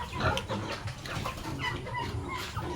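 Several chickens cluck and murmur continuously close by, with overlapping bird calls against a steady farmyard background with goats, pigs and turkeys.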